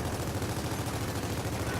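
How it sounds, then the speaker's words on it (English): Rapid gunfire from the Gears of War 4 game crackles in a dense, continuous burst, with heavy noisy game ambience throughout. "I wonder if he hears those gunshots to the right of him."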